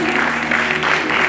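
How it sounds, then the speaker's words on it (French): Wedding guests at an evening reception applaud together. The clapping is a dense, steady wash with a low hum of voices underneath, and it holds evenly for a little over a second. "applaudissez pour la concertation"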